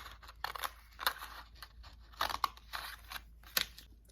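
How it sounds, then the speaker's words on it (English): Scissors snip through paper for a handmade paper lantern, a series of quiet, separate crisp cuts spaced irregularly across a hushed background. "You're going to look and you're going to cut just straight down around 1 finger's width"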